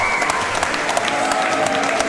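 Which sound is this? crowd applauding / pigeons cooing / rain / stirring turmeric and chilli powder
crowd applauding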